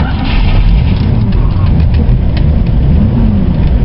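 Engine of a 1970 Ford Mustang Mach 1 running after repairs for zero compression on adjacent cylinders, a loud, continuous low rumble heard close up and steady throughout.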